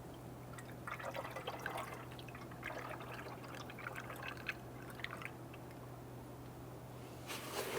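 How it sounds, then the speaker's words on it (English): Coolant poured into the radiator tank of a 1992-1996 Toyota Camry 2.2L four-cylinder, a quiet trickling and dribbling of liquid with soft drips, faint and close, heard alone without talk. "Using the appropriate coolant, go ahead and fill up that tank."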